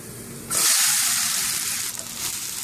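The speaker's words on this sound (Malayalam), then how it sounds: "ഇനി നമുക്ക് ഈ പഴം ഒന്ന് നന്നായി വഴറ്റിയെടുക്കാം" Sliced banana dropped into hot oil in a pan starts a sudden loud sizzle that keeps frying steadily, with a brief stir near the end.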